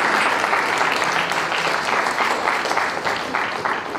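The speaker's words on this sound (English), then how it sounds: "I think that everyone will give a big clap for them." Steady, full applause from a summit audience fills the room for several seconds, a dense wash of clapping with no pause.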